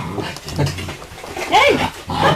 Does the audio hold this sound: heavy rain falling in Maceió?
no